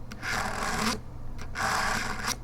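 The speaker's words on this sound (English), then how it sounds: "Oh yeah, you can hear it cleaning it up." A knife is drawn through the coarse slot of a Smith's sharpener to clean out gouges in the blade, giving two close, gritty rasping strokes separated by a brief pause.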